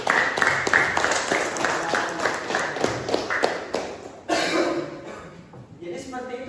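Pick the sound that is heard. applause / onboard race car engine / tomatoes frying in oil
applause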